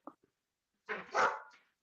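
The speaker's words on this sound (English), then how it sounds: "Sorry, my dog is going crazy." A dog barks once or twice, a short loud burst nearby in an otherwise quiet room.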